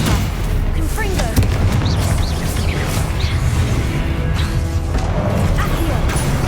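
Spell-casting combat effects from the video game Hogwarts Legacy: a dense, continuous wash of booms, crashes and magical whooshes with overlapping impacts, under a voice calling out spell names throughout.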